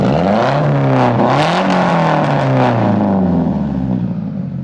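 A Nissan 240SX with a KA engine and straight pipe exhaust revs loudly up close, its raw, buzzy note climbing and falling in pitch over several seconds and then settling toward idle.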